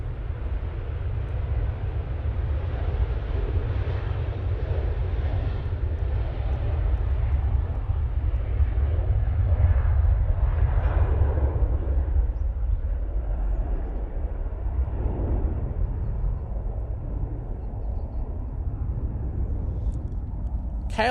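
A KLM airliner at Manchester Airport gives a steady, deep engine rumble that holds evenly throughout, sounding moderately distant with no voices over it.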